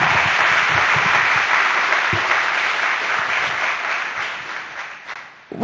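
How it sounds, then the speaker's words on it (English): An audience in a school hall at an all-school day event claps for someone, loud sustained applause that thins and fades toward the end. "let's give him one big hand of applause"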